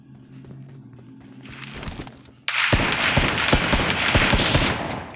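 In the BGMI mobile shooter, a quieter stretch of ambient game noise gives way to a loud burst of rapid gunfire, many close shots cracking in quick succession.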